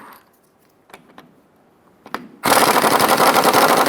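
An impact wrench with a 15mm socket removes the shock bolts on a 2014-2018 Chevrolet Silverado 1500 truck, a few faint clicks and clanks followed by a loud, close, sustained rattling burst.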